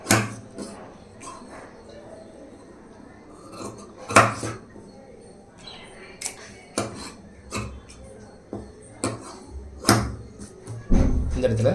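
Scissors cut through blouse fabric in a run of close, sharp snips with quiet pauses between them, and someone talks through the cutting.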